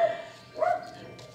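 A dog barks once, a sharp close bark in the middle of an otherwise quiet indoor moment, with a faint tonal hum running beneath.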